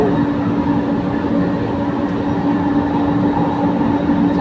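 Steady loud rumble of a passenger train riding along a rail line in Manila, heard from inside the car, with continuous wheel and track noise and no talking.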